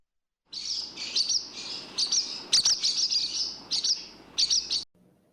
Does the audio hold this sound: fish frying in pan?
no